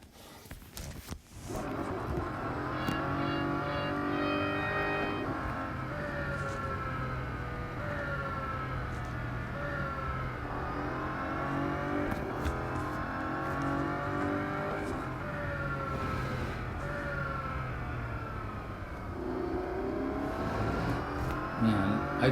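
A racing car engine in the Real Racing 3 video game revs and accelerates repeatedly through rising gear shifts, loud and continuous for the whole stretch, with some talk over it.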